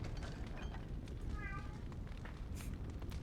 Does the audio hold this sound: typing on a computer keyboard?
no